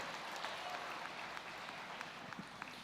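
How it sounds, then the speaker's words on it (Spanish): A church congregation claps in praise during a Spanish-language sermon, a soft, continuous spread of many hands heard from a distance with a few sharper individual claps standing out. "Denle un aplauso a Dios, vamos, denle un aplauso a Dios."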